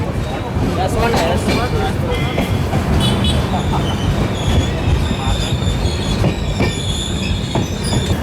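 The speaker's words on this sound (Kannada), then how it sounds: "ಹರಿಪ್ರಿಯ ಎಕ್ಸ್ಪ್ರೆಸ್ ಈಗ ಎಂಟರ್ ಆಗಿದ್ರೆ ಕುಡ್ಚಿ ರೈಲ್ವೆ ಸ್ಟೇಷನಿಗೆ" Haripriya Express pulling into Kudchi railway station, a loud steady rumble of rolling wheels and carriages with high metallic wheel squeal and rattling, sustained and close throughout.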